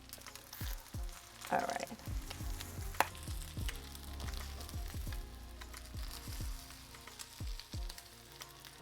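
Crab cakes sizzle in a frying pan as they are flipped with a small spatula, a steady fry hiss under brief spoken words, with soft clicks and scrapes from the utensil.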